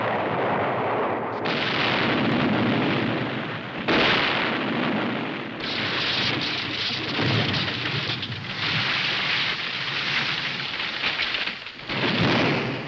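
French artillery firing during the 1940 battle on the Meuse: a loud, continuous roar of heavy gunfire and rumbling blasts, unbroken for the whole stretch with a few sharp breaks, and no voices.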